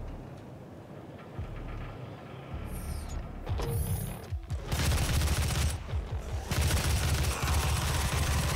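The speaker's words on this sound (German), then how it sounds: "Oh je, die explodieren." Explosions and heavy combat noise from the Doom (2016) video game: mechanical clanks give way to loud, dense blasts that fill the sound and hold at high volume to the end.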